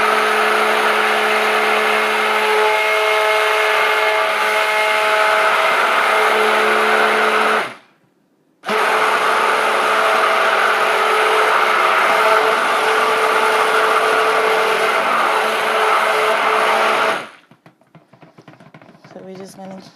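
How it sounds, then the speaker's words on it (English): Blender whirring through cold process soap batter, a loud steady motor drone that runs, stops briefly, starts again and then cuts off near the end with a few rattles afterward. "So we're just going to keep whizzing and mixing and blending until this gets to the consistency that I want it to be at."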